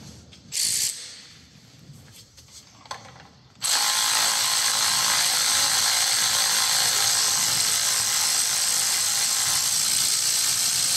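A ratchet loosens bolts on a Skoda 1.4 TDI engine during a timing belt change: a few quick clicks at first, then a loud, steady rasping run of pawl clicks that carries on without pause, close by.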